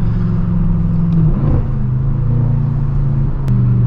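Engine note of an 800 HP manual BMW M6 Gran Coupe with turbos, a steady loud low rumble with a steady drone from inside the car, faint whooshing noise from the turbos and a brief sharp click near the end.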